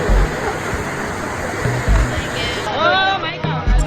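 Loud, continuous roar of water pouring down Dunn's River waterfall in Jamaica during a climb, close by, with people talking and shouting over it.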